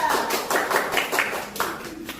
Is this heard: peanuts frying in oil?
no